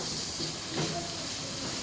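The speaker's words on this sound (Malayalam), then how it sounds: "എണ്ണ ചൂടാക്കി ചെറുതായിട്ട് സോട്ട് ചെയ്തെടുത്ത്" Oil heating and ingredients sautéing in a pan in a home kitchen, a steady broad hiss and sizzle that stays even throughout, with a faint voice underneath.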